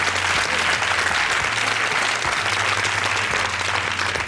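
A studio audience on a French television game show applauds to welcome a guest onto the set, a steady, dense wash of clapping that stays loud and even throughout, with a low hum beneath it.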